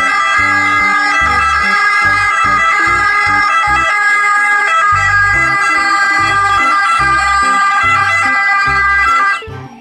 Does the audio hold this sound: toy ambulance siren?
yes